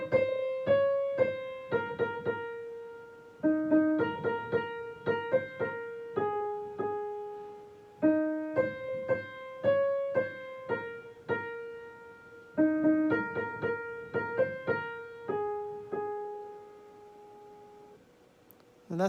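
The American folk tune Mockingbird played alone as a clear, plucky melody of short struck notes over a steady lower accompaniment, with even phrasing and a couple of brief pauses between phrases.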